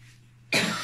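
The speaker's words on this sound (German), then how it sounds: "ich hoffe, man hat das Husten jetzt nicht gehört" A single sudden dry cough from someone narrating a drawing tutorial on long fox fur bursts out close to the mic after a quiet pause with a faint low hum.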